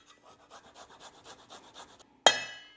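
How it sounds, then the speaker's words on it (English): Two garlic cloves are grated straight into a butter chicken marinade, producing a quick series of soft rhythmic rasping strokes, then a single sharp metallic clink as the grater is set down. "I'm going to add some garlic, 2 cloves of garlic. Just going to grate that straight in."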